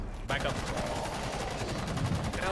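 Rapid gunfire from a co-op tactical shooter, Rainbow Six Extraction, on a high-difficulty outbreak mission, with dense bursts of automatic shots continuing steadily and loud throughout.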